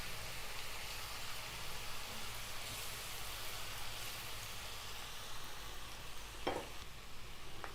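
Garlic and ginger sautéing lightly in a pan give a steady, close, even sizzle throughout, with one brief sharp clink near the end.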